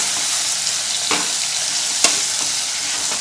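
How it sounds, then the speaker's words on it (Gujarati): Ridge gourd pieces frying in a pan with hing and turmeric, a steady close sizzle with a few scraping stirs and one sharp utensil knock, no talk. "હવે આપણે કાપીને તૈયાર કરેલા તુરિયાના ટુકડા ઉમેરી દઈએ બધું જ બરાબર મિક્સ કરી લઈએ"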